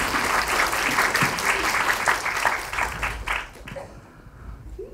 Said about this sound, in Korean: 힘찬 박수 한번 다시 한번 부탁드리겠습니다.